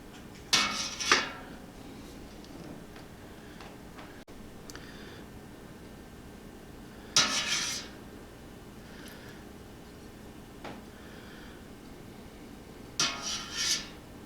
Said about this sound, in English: So now my fat has congealed enough so I can scrape it off the top.